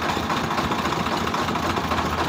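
A Punjabi farm tractor engine idles close by in a border village, giving a steady, loud, low rumbling drone with constant vibration and no speech.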